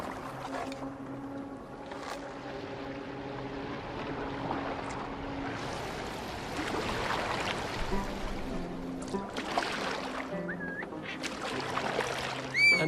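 A Viking boat glides across water in the fenlands of Assassin's Creed Valhalla, with steady lapping and wash under an ambient music bed, occasional splashes rising midway and a brief louder swell at the end.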